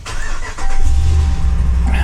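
A RAM 1500 pickup truck with flood damage cranks and fires up, the engine catching quickly into a loud, close, steady idle rumble.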